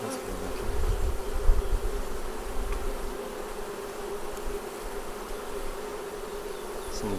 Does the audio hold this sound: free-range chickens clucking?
no